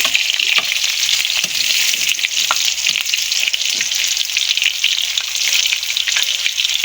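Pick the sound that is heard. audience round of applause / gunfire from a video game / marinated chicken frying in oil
marinated chicken frying in oil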